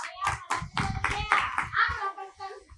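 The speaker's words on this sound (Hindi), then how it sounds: "तालियां बजा दो" A class of students clapping during a Brahmi script lesson, a burst of rapid uneven hand claps mixed with children's voices and chatter.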